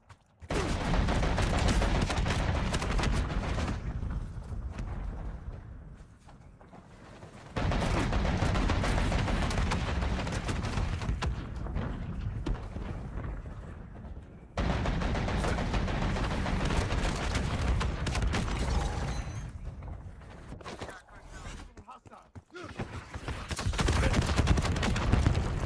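Gunfire from a VTOL aircraft in a video game, dense bursts of rapid shots and booms in several long loud stretches separated by brief quieter gaps.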